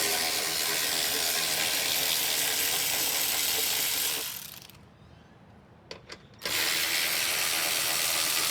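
Ratchet with an extension turning out bolts on the rear bumper of a 2017 Cadillac Escalade, a steady close clicking for about four seconds, then a quiet pause with a couple of faint ticks before the ratcheting resumes.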